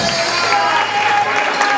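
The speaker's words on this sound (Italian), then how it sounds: "Un grande applauso ad Elena di Selvazzano, dentro." A crowd at a live Italian stage show applauds and cheers after a contestant from Selvazzano is introduced, a steady loud wash of clapping with a sustained tone running underneath.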